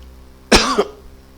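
A single sharp cough bursts out loud and close, lasting about a third of a second before trailing off, with a quiet steady background around it and no talk.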